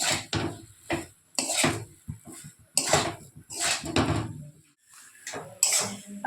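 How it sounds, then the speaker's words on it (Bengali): Cauliflower filling being mixed with salt and sugar in a bowl, intermittent scraping and clinking bursts of utensil against bowl separated by short quiet gaps. "খুব ভালো করে মিশিয়ে নেব।"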